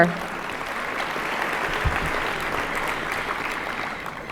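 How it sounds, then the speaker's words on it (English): Steady applause from a crowd fills the whole stretch, dense clapping at an even level, moderately loud with no clear voices above it. "can you give her another round of applause?"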